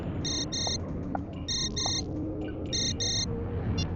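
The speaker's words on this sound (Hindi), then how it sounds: "अरे अमित का फोन तो यहीं कहीं बज रहा है।" A mobile phone rings in repeated double bursts of a high electronic trill, three cycles over steady low background noise, somewhat distant and muffled.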